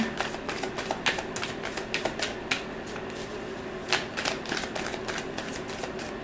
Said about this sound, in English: Let's give it a couple shuffles here.